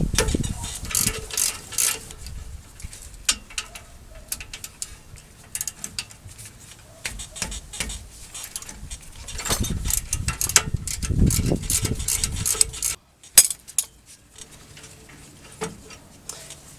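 An 18 mm socket ratchet works on the brake caliper bracket bolts of a 2004 Chevy Silverado rear brake, giving rapid close pawl clicking in repeated strokes with small metallic knocks and a brief silence near the end.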